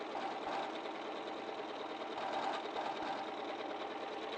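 Close, continuous whir of a sewing machine stitching along linen fabric, a steady mechanical hum with a few faint clicks and bumps as the seam runs on.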